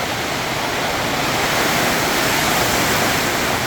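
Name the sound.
storm with heavy rain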